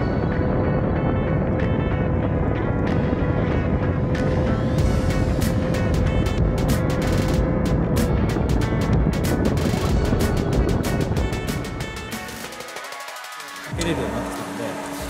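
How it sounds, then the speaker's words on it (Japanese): Kawasaki ZX-25R Turbo engine revving hard and rising in pitch as its reinforced clutch slips under boost during a top speed run, a loud steady roar with wind noise that dips near the end. "パワーに耐えきれずクラッチが滑り、回転が上昇してしまっているのがわかる。"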